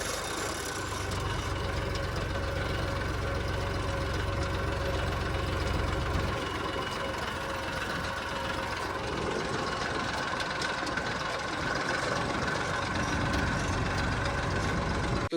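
A farm tractor's diesel engine idles close by in a steady, even chug that continues throughout, with no talk over it.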